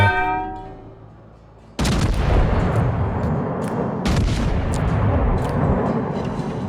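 A massive battleship broadside in World of Warships erupts with a sudden heavy boom, then a long rumbling roar of rolling blasts and crackling shell sounds that stays loud to the end.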